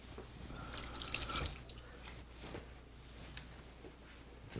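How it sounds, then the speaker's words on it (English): Running tap water splashes into a kitchen sink while a knife is rinsed, a steady quiet gush with small splashes and drips, fairly close and with no talk. "Rinse your knife and wipe it."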